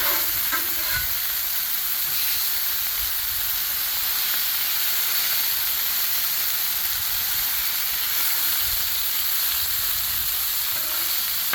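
Pork chops sizzling in oil on a Blackstone griddle, a loud, steady, unbroken hiss and crackle that holds at the same level throughout, with no voices.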